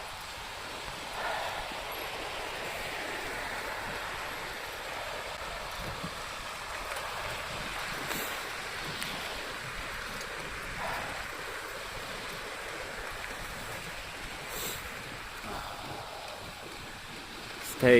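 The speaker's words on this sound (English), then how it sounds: "Getting some wind now, can you hear it?" Wind roars in a steady broadband rush past a bicycle riding through winter cold of -21 to -24°C, a constant close buffeting that holds for the whole stretch without talk.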